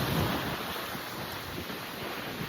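Ocean waves wash against the rocks along the coast at Bondi in Sydney, heard as a steady, loud, broadband roar of surf with wind buffeting the microphone and no voices.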